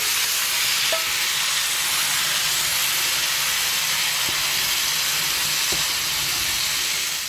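Strip loin cooking over an open fire gives a steady, broad sizzle and hiss with a few faint pops and crackles scattered through, close by and with no talk.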